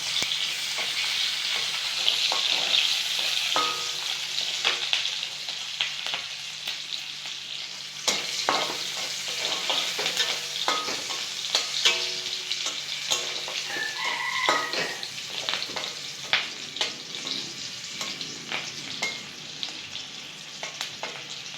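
Onion slices sizzle and crackle steadily in hot oil in a pan, cooking for a tomato and dried sidol fish dish, with a continuous close frying hiss and occasional stirring sounds.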